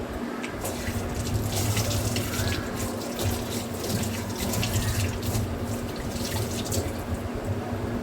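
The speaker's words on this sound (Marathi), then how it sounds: "सारखं हात धुवावं लागायचे त्याच्यामुळे पाणी पाहिजे" Water runs steadily from a tap into a sink for the whole stretch as hands are washed, with the splashing shifting slightly as hands move under the stream.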